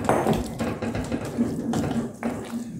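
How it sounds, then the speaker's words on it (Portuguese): Water pours and splashes into a pan of ground beef and potatoes, a close, uneven gurgle with brief bursts. "vou colocar aqui um pouco de água"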